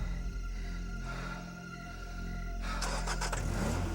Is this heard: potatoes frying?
no